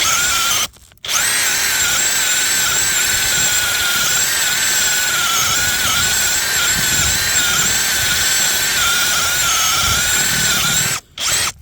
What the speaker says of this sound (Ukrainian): Форснером взагалі не хоче свердлитися